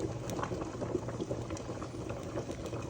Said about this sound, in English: That's just my rice over there boiling.